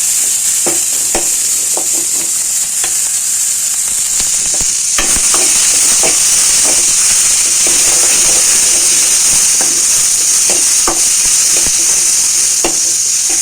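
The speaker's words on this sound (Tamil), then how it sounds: "நல்லா வதக்கி வச்சுக்கலாம்." Vegetables sizzle loudly and continuously in a hot frying pan, with a steady hiss broken by frequent scraping stirs and small pops, no voices.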